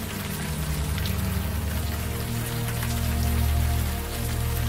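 Warm rain pours steadily in the video game Unavowed, a dense, even wash of falling drops that stays loud and continuous with no voices over it.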